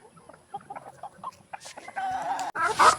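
Roosters and a hen cluck and peck while being fed, with short, uneven clucks close by at first, then louder, fuller calls and scratchy feeding noises toward the end.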